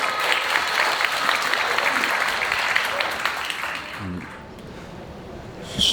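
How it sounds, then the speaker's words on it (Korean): Wedding guests applaud the groom's father in a hall, a dense, steady round of clapping that carries for about four seconds before fading into quiet room noise. "아버님을 큰 박수로 한번 모셔보도록 하겠습니다"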